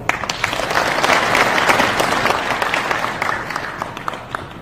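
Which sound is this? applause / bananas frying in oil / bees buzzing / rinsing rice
applause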